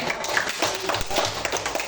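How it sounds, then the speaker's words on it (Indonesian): A classroom group claps for a student during a lesson, a quick patter of scattered hand claps and taps at moderate level across the short stretch. "tepuk tangan buat Rastia"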